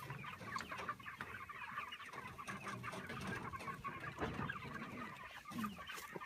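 Pastured chickens cluck and murmur in a field, a busy, low chorus of soft clucks and occasional louder calls, fairly quiet and continuous with no speech.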